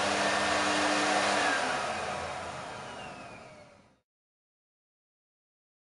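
A steam cleaner's vacuum running on the SV6 machine, a loud whirring motor drone that holds steady, then winds down and fades to silence about four seconds in.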